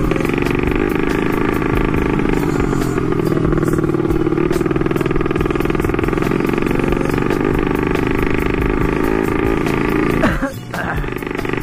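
A motorcycle with a loud exhaust rumbles steadily and close by, a constant droning engine roar that dips briefly near the end, with faint voices buried beneath it.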